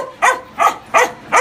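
A dog at an animal shelter barks four times in an even rhythm, close and loud, each bark short and sharp with quiet gaps between.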